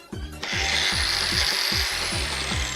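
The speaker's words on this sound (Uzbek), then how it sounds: "Bolgarkani ovoziga ham taksikoz bo'ladimi odam?" An angle grinder whines at a steady high pitch after a brief start-up, running continuously over a thumping rhythmic beat in the background.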